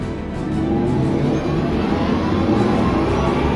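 Synthetic digital driving sound of an Audi e-tron GT electric four-door coupé, a steady, dense low hum with a smooth whirring layer, continuous and fairly loud throughout with no speech.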